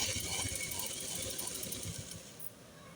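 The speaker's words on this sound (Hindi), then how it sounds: "इसको हम सिलाई देंगे फिनिशिंग की।" A sewing machine stitches a finishing seam on a halter-neck collar, its rapid mechanical rattle running fairly steadily and then easing slightly toward the end, with a faint background hiss.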